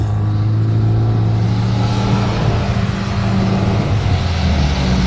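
Lada Niva driving off-road, its engine droning loud and close with a steady mid-pitched hum and slight rises in revs throughout.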